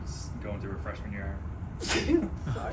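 A single sharp sneeze bursts out near the end, right after a person speaks briefly, at a softball press conference.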